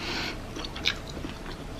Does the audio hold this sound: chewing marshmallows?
yes